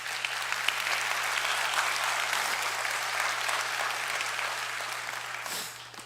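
A TEDx audience applauds during a talk on gun violence, sustained clapping from many people at an even, fairly loud level that fades slightly near the end, with no speech over it.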